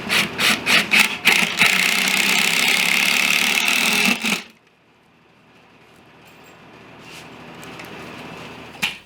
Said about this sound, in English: This is just to hold it in place while I drive my screws in.